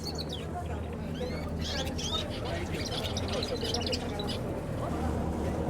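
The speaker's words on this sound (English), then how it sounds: "Just found like a little pet store and there's all these little birds." Small birds in a Venice pet store chirp and twitter in rapid, overlapping bursts, with a steady hum of indoor noise and distant voices underneath.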